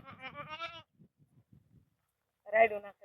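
Goats bleat in two bursts, a longer run of wavering cries and then a single loud call after a quiet pause with scattered soft noises.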